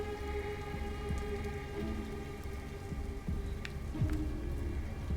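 A rainstorm in the video game Detroit: Become Human: steady heavy rain pattering on surfaces, with a low rumble of distant thunder underneath and a few sharper drips, continuous throughout.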